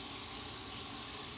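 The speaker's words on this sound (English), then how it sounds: "This thing right here is called an aspirator. It just aspirates, it sucks the thing out." A water aspirator runs for vacuum filtration in a chemistry lab, giving a steady, close, even rush of flowing water with no break or voices.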